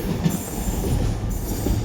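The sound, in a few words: class 66 locomotive train passing Newport station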